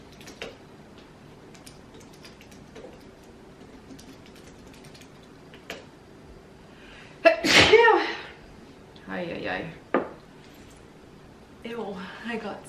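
A single loud, close sneeze breaks through quiet room sounds and faint clicking, followed by a few short sniffs or breaths.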